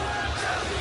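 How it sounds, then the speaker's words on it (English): A student section crowd at a basketball game chants loudly and steadily in unison, a dense roar of many voices filling the short stretch. "The crowd chanting, "Cal, you suck.""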